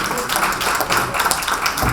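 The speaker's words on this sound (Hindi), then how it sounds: "इसके लिए तो तालियां बनती हैं।" An audience claps at a women's honour award ceremony and poetry gathering, giving a dense, steady burst of applause with talk mixed in.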